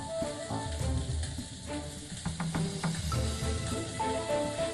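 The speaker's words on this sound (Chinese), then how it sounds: "再用备好的底油炸香大量蒜末" Plenty of minced garlic fries in hot oil in a restaurant kitchen, a close crackling sizzle with some clattering, in a dish made from king crab.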